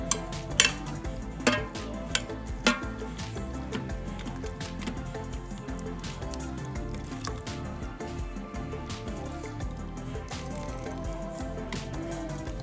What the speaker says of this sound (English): So now we have to just keep mixing it.